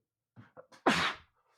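A single loud, close sneeze bursts out after a few short, breathy intakes of air, then quiet follows in an indoor room.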